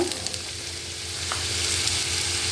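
Steady, close sizzling of radish frying in hot oil after mustard seeds, a continuous crackling hiss that grows slightly louder, with a brief clink partway through.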